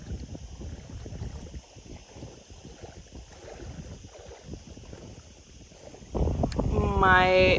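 Wind blows across the microphone outdoors on a hike, a steady broadband rush of gusts that swells louder near the end, with a faint higher whistle-like tone rising over it in the last moments.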